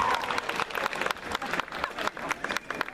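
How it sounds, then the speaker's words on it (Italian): Audience applauding a singer at the Canta Bozzolo 2016 song event, dense nearby clapping with some cheering mixed in, lively and continuous throughout. "Facciamogli un applauso."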